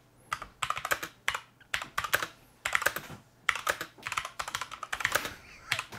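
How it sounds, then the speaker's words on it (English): Rapid bursts of typing on a computer keyboard during a live tech unboxing chat, close and clattering in uneven flurries with short pauses between them. "My typing is horrendous."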